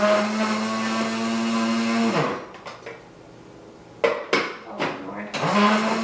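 A Vitamix blender with a dry-blade container, square blades, runs steadily for about two seconds, then stops, followed by a few short bursts of whirring and knocking before it starts up again.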